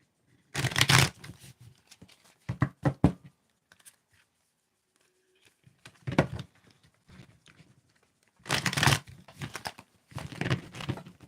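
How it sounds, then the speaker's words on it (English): Tarot cards being shuffled by hand: several bursts of riffling, crisp flapping and papery crinkling separated by quiet pauses, close and fairly loud, with no talking. "You tell me when to stop shuffling."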